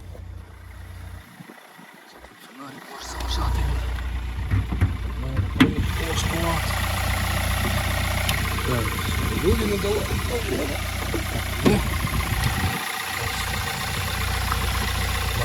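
A 2012 Kia Sportage engine catches and settles into a steady, rumbling idle that continues close by for most of the clip, with someone talking over it.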